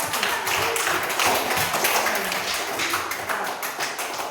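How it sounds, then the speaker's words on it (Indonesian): A classroom group applauds a team of students, a steady dense wash of clapping from many hands, loud and continuous throughout. "Kasih tepuk tangan untuk kelompok 1"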